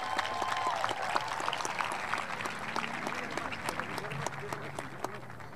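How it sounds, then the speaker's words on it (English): Sustained audience applause at a 2021 Calexico High School graduation ceremony, dense steady clapping from a large crowd that fills the whole stretch at an even level, with faint voices mixed in. "Let's give him a big round of applause."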